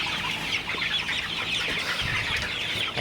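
A flock of broiler chickens on a poultry farm keeps up a dense, continuous chatter of clucks, a steady mid-pitched din with no pauses and no speech.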